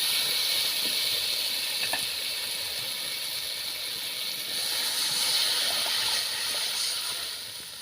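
Water hits sautéed radish in a hot pan, setting off a loud, continuous steamy hiss that holds steady and then eases slightly at the very end.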